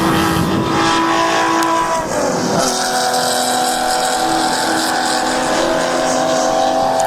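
Touring cars in the US Touring Car Championship race at Sonoma Raceway, engines droning loud and close before one car passes with a sharp pitch drop, then several engines keep roaring steadily with no voices.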